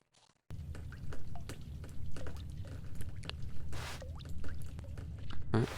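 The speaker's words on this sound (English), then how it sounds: "Why do I hear running water?" Water running and dripping from a leaking sink or ceiling in the video game The Stanley Parable, a steady wet splashing with scattered drips and trickles, close and moderately loud.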